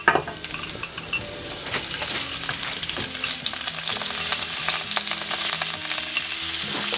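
Garlic and pork frying in a pan for Indonesian mee goreng, a steady loud sizzle with occasional utensil stirs and scrapes throughout, no voices.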